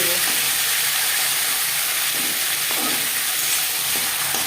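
A fish head fries in a pan with a loud, continuous hissing sizzle of oil, close and steady throughout, with a few faint knocks underneath.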